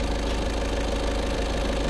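A 2018 Volkswagen Polo Highline Plus diesel engine idles steadily, a close, even mechanical drone with a faint rhythmic knock and no change in pace.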